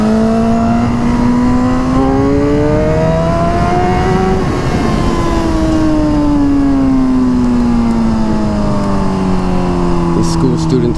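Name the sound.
Suzuki GSXR 1000 motorcycle engine riding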